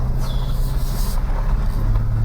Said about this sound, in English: I'm gonna back us down to gear 1 so we can have the engine braking on also